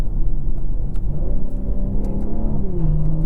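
A 2024 BMW M340i Special Edition with its B50 engine and M Performance exhaust revving, heard from inside the car as a steady loud engine drone rising in pitch toward the end.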